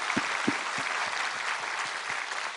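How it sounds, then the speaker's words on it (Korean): A congregation at a New Year's Eve church service applauds in a broad, steady wash of clapping, with several low thumps near the start and faint voices beneath. "우리 하나님께 감사와 영광의 박수를 드리겠습니다"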